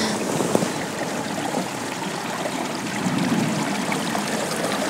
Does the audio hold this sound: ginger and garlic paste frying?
no